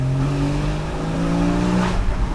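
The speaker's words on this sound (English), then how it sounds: "I feel like they've also retuned the exhaust, because it does sound" The engine and exhaust of a Porsche 981 Boxster GTS with PDK gearbox rev strongly, a loud, rising tonal growl from close range that climbs through a burst of acceleration.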